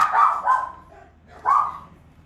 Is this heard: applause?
no